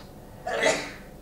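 A single short, breathy burst, like a sneeze, rises out of quiet room tone and fades within about half a second.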